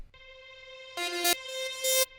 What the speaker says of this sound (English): I just took the lead sound and just bounced it into audio and then reversed it